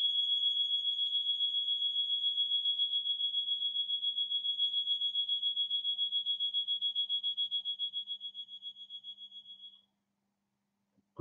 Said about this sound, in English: Okay, we have an alarm.